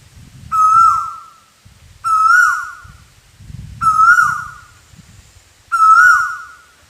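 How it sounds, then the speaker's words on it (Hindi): An Asian koel calls in a garden, giving four loud, evenly spaced calls about a second apart, each a clear rising-and-falling note, with a low rumble of background noise underneath. "साथियों आज हमारे बगीचा में कोयल भी"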